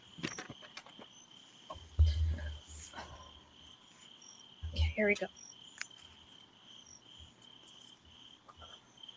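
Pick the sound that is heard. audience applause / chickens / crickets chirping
crickets chirping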